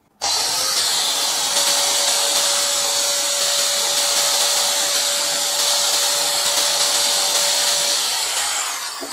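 A DongCheng DSM14-100 paddle-switch angle grinder spins up and runs unloaded with a loud, steady whine and airy hiss, then starts winding down at the end.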